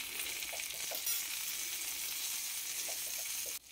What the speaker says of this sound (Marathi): तेल टाकल्याच्या नंतर परत मिरची भाजून घ्यायची